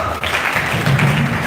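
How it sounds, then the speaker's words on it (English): An audience applauds at the close of a distinguished public lecture, a dense, continuous wash of clapping heard up close with no pause. "I would ask that you give him another round of applause."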